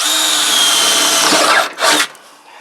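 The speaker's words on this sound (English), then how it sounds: "Just using a little wax and drilling these out." A power drill whirs steadily at close range, drilling out indented parts with wax, then briefly cuts out, spins up again for a short burst and stops.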